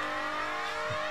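A Lamborghini engine in the Need for Speed racing game, a loud continuous high-pitched whine with layered tonal harmonics, steady and close with no talk over it.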